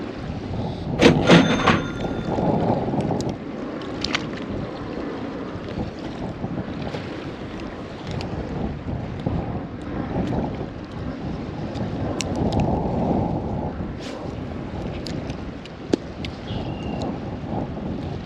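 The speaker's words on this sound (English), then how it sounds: "as soon as I started walking to the spot, the wind picked up" Strong wind gusting at a quarry at night while fishing, a continuous loud rumbling buffet across the microphone with surging gusts, a few faint clicks and knocks, no talking.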